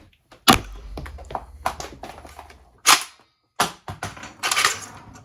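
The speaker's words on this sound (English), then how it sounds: "get your breacher, stick it in through the bottom, and then you can shoot it" A 3D-printed breacher toy gun is shot several times, making sharp, close snapping pops with an irregular rhythm and small clattering taps between them.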